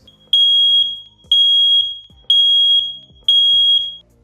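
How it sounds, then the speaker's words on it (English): An X-Sense wireless interconnected smoke detector alarm blares in four loud, even, high-pitched beeps, each about three-quarters of a second long with short gaps between, close and alone with no talk. "The actual alarm will sound a little something like this."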